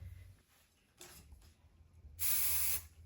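Hairspray sprayed onto a chestnut brown frontal wig during an install, one loud hissing burst lasting about half a second near the end, preceded by quieter rustling handling sounds.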